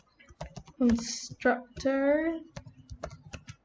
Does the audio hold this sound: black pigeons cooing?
no